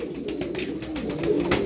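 Tumbler pigeons kept as play birds cooing steadily, a close, continuous low warbling with soft rhythmic pulses, no voices.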